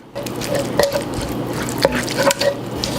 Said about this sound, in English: Now we're gonna stir in our parsley right over here.